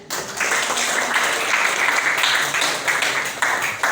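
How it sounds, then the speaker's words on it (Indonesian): Classroom applause from a group of students, steady dense clapping that stays loud and close for about four seconds with no voices over it. "Kita beri tepuk tangan."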